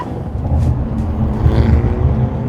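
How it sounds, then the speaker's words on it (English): A Hyundai Elantra N engine revs in a deep, gruff, uneven rumble with short swells and bursts, loud and close, lasting a couple of seconds without talk. "it's a nice angry sounding motor"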